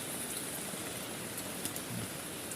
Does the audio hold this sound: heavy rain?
yes